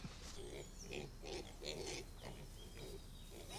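Pigs grunt in a field on a country estate, a series of low, rough grunts at moderate distance over a faint outdoor background.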